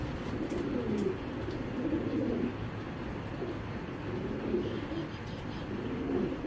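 Racing pigeons of foreign bloodlines, a breeding pair among them, give soft, low cooing in rolling bursts, fairly quiet and close, with steady background hiss.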